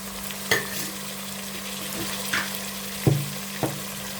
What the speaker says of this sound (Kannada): ಹೆಚ್ಚಿಟ್ಕೊಂಡಿರೋ ಟೊಮೊಟೊನ ಹಾಕ್ತಾಯಿದ್ದೀನಿ